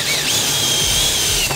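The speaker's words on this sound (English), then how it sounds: "So I'll drill a little hole in this plywood" A power drill fitted with a step bit bores a hole through plywood, a steady loud whine of the motor with the bit grinding continuously through the wood for the whole stretch, no voices.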